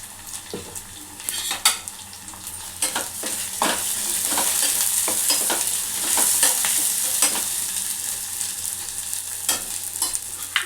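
Food fries in a pan as turmeric is stirred in, a constant sizzle broken by repeated sharp scrapes and clinks of a utensil against metal, close and loud with no talking.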